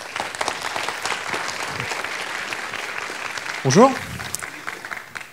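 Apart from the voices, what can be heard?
audience applause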